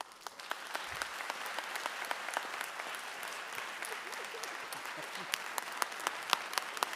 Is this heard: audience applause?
yes